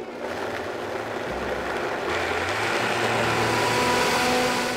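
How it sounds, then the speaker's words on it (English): A countertop blender whirs through vegan hollandaise ingredients of turmeric, salt, vinegar, black Himalayan salt and water, the motor starting low then ramping up into a steady, louder grinding whine. "Then we blend."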